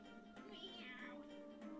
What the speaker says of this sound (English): Meows.